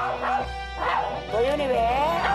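A pet dog barks right beside a baby indoors, sharp close yips and whimpering bow-wows rising and falling, mixed with voices.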